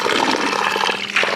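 Water pours steadily from a spout tap at a drinking-water point near a tea garden in Pakhribas, Dhankuta, a close, continuous splashing gush.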